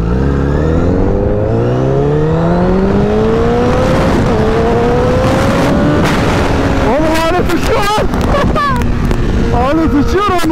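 A 1000cc sport motorcycle engine revs up through rising gears while riding, its exhaust roaring loudly and close, with sharp pitch swings and bursts toward the end; a voice speaks underneath.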